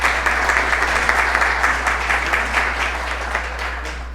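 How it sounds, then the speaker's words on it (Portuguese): Audience applause for a speaker at a workplace electrical-safety conference session, a steady dense clapping that holds evenly for several seconds with no talking over it. "Uma salva de palmas para o nosso amigo José Firmino"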